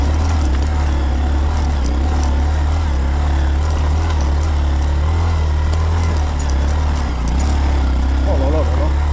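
Honda Monkey motorcycle engine while riding on a dusty road trip, a steady, loud low drone with constant throttle, held throughout without pause.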